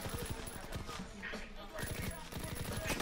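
Rapid gunfire from Call of Duty WW2, with a 1911 pistol among the weapons: quick repeated shots snapping close and fairly loud, under someone talking.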